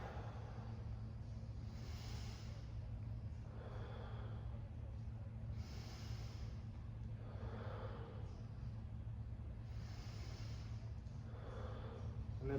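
Slow deep breaths drawn in and let out during a yoga side stretch, roughly four long cycles, soft and close over a steady low hum.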